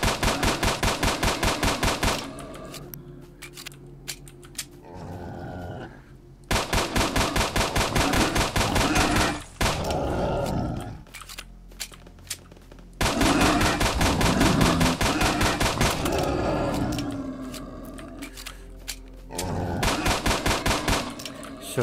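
Automatic gunfire in S.T.A.L.K.E.R.: Shadow of Chernobyl, a game set around Chernobyl, rattles in long, loud, rapid bursts separated by brief pauses, with other game sounds in the gaps.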